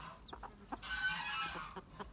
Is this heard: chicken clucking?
yes